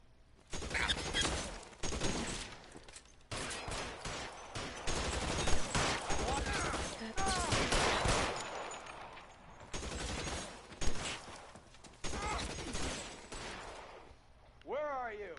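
Gunfire in the crime game LA Noire, heavy bursts of shots and volleys ringing out repeatedly through the stretch, loud and close, with voices talking in between.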